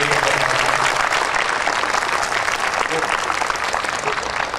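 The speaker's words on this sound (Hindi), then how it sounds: "एक बार जोरदार तालियां तीनों साथियों के लिए" Loud applause fills the room at a media fellowship event, offered to three participants. Dense crowd clapping carries on steadily and close throughout, with voices mixed faintly underneath.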